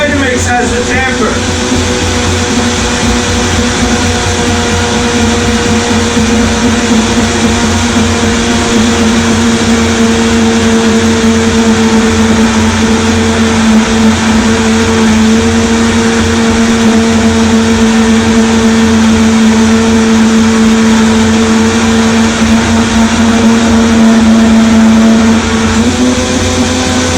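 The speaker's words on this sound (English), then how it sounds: "here you see me using the tamper. Only the Vitamix has the tamper." A Vitamix blender grinds a thick cheese sauce made with pumpkin seeds, habanero and apple cider vinegar, as the tamper pushes the mix down; a loud, steady high-speed motor drone runs unbroken for nearly half a minute.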